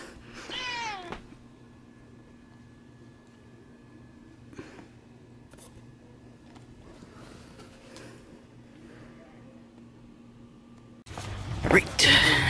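A cat sitting in a box gives a short rising meow at the start, followed by quiet room tone with a few faint knocks, then a burst of louder noise near the end.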